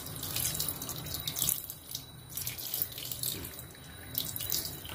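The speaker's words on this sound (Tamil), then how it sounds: "இப்போது இந்த ரெசிபிக்கு தேவையான கொஞ்சம் தண்ணி ஊற்றிக்கிறேன்" A little water runs from a tap or is poured into a pressure cooker while cooking Champaran-style mutton, a steady close splashing stream rising and falling for several seconds with no speech.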